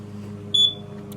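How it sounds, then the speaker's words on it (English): A smoke alarm gives one short, piercing high beep over a low steady hum, sounding once and cutting off. "I've had that alarm for around 3 years now."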